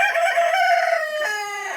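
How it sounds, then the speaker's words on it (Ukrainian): A rooster crows once on a village farm, a single loud, close, drawn-out call that tapers off at the end with no other sound around it. "я відійду звідси від цього півня, бо вони мене дістали"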